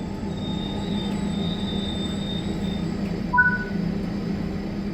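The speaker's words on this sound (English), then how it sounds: "Bring the train to a stop now by applying the train brake." Steady rumble of a train rolling along in Train Sim World 5, with a brief squeal of brakes near the end as it slows, no voices.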